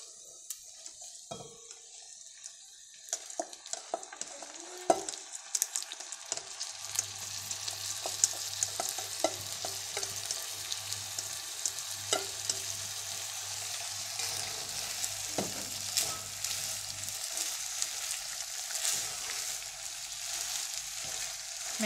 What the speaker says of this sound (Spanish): Lo que vamos a hacer es incorporar el arroz que ya teníamos previamente lavado y escurrido.